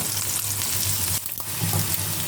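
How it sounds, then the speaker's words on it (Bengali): Onion frying in oil until light brown makes a loud, dense, continuous sizzle right up close, with a low steady hum beneath and a brief dip partway through. "পেঁয়াজটা হালকা বাদামি কালার করে ভেজে নেব"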